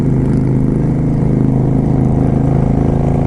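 A motorcycle riding along the Blue Ridge Parkway on a warm morning, its engine a steady, loud, close rumble with a fast even pulse and no change in pace.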